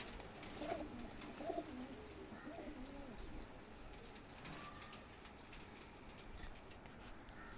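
Soft pigeon coos sound close by, a few low throaty calls early on, against a quiet rustling background.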